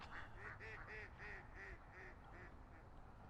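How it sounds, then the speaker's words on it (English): Ducks quack repeatedly in a quick series of about seven or eight nasal calls, faint and somewhat distant over outdoor background noise. "Guess these ducks want to be part of the action, huh?"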